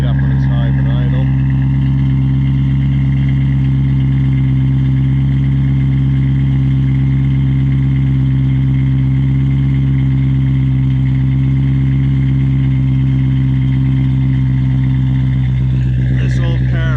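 A tuned BMW 540i E39 with a custom exhaust idles on a mild day, a deep, steady, even rumble close by that holds unbroken throughout, with a brief rev-like flutter near the end.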